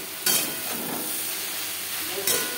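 Pumpkin greens and stalks stir-fry in a pan with a steady soft sizzle, broken by two short sharp bursts of hissing as the leaves hit the hot oil.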